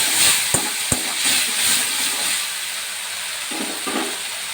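Spices frying in oil for an egg curry with papaya and potato, a steady loud sizzle and hiss with a few sharp clicks of stirring, no voices.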